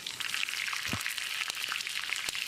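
Curry leaves sizzle in hot coconut oil with mustard seeds, fenugreek and dried red chillies during tempering for a wedding-style sambar. A continuous close hiss runs throughout, broken by scattered spitting pops.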